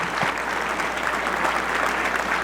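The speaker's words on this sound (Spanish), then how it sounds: "les pido un fuerte aplauso para terminar esta noche" Steady applause from an audience, a continuous wash of clapping hands without breaks.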